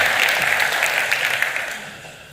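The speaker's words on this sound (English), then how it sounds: "One more round of applause," Short burst of audience applause after a business talk on international expansion, lively clapping from a crowd that is loud at first and then tapers off toward the end.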